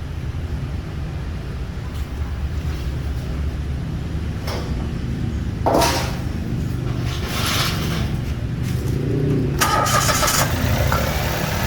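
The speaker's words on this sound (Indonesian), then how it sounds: "mesin dihidupin 5 sampai 10 menit tadi ya" A Mitsubishi Mirage engine cranks and turns over during a tune-up, then settles into a steady low idle, with a few clunks and rattles nearby.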